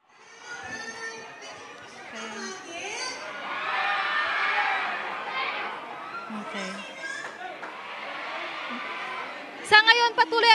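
Fans of the Bardal Love Team shriek and cheer as a crowd, a sustained wash of screaming voices that swells and holds, with a burst of high shrill screams near the end.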